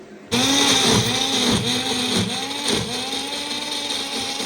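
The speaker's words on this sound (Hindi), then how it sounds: "अब मैं इसको थोड़ा सा मिक्स में पीस के आऊँगी" A mixer grinder grinding greens and garlic whirs loudly after switching on, its motor pulsing and whining in a repeating rhythm as it grinds.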